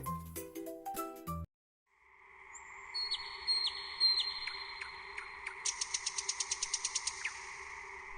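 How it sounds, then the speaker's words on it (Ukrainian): Bright birdsong of a nightingale, given as the bird in a preschool shadow-guessing game, follows a brief burst of musical tones: trills, whistles and a rapid run of repeated chirps, clear and close. "Соловей"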